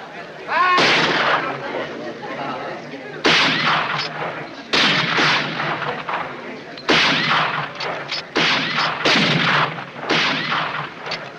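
Rifle volleys in a western film crack out in repeated loud bursts, several ragged rounds of gunfire each trailing off into echo, with brief pauses between them.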